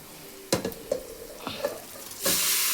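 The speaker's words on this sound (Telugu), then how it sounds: "పసుపు వేగాక చికెన్ వేసుకుందాం." Chicken pieces go into frying turmeric with onions and rice for a hotel-style chicken biryani, giving a near sizzle with a few clattering stirs and scrapes, then a louder burst of sizzling at the end.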